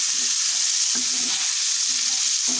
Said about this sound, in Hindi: अब मैं इसके अंदर शिमला मिर्च डालूंगी। और इसे अच्छे से मिक्स कर लूंगी मैं।